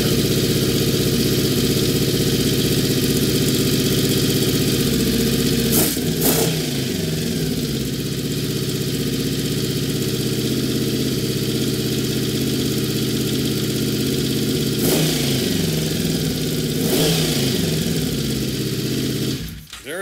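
Honda VFR750 motorcycle engine running close by, a steady loud idle broken by several brief throttle blips around the middle and near the end, then cutting off abruptly.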